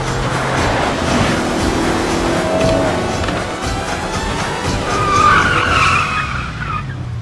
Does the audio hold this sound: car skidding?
yes